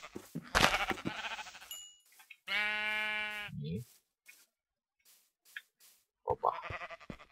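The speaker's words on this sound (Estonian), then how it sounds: "Oh, lammas." A Minecraft sheep bleats once, a clear wavering bleat near the middle, amid sparse game clicks and other short in-game sounds.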